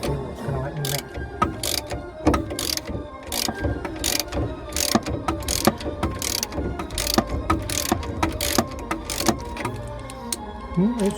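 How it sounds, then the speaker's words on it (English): A ratchet winds a 13 mm nut on the anti-roll bar of a Mercedes W202, giving repeated loud, sharp clicking strokes in an uneven rhythm. Each burst is close up over a background of workshop clatter. "we wind the nut right up and then we can't get the ratchet off the nut"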